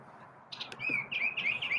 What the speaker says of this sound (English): Birds are chirping now, too, and they're going crazy.